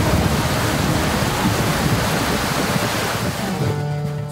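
Strong wind and rough sea waves roar in a loud continuous wash, with a faint tone rising at the very end and no voices.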